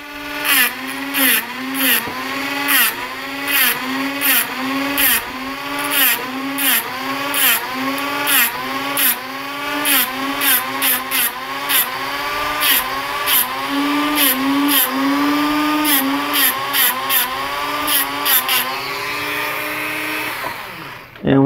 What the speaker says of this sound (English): to make a few notches in this pin with my cutting tool.